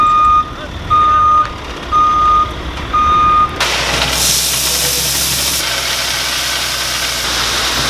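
A truck delivering gravel sounds four loud reversing beeps at a steady pace over a rumbling idle. The beeps stop and the engine keeps droning with a louder, rougher noise.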